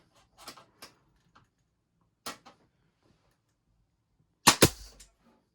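Pneumatic nail gun firing nails into the wood of a radiator cover: a few sharp, loud cracks at irregular intervals, the last pair the loudest and closest, with light clatter between shots.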